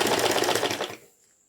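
A sewing machine runs a rapid, steady stitching burst while hemming saree falls and borders, close and loud for about a second before stopping abruptly, leaving a faint high whine.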